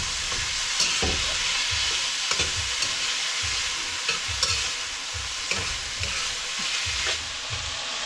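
Food sautés in a hot pan with a constant sizzle, broken by regular scraping strokes of a stirring spoon, close and fairly quiet with no talking.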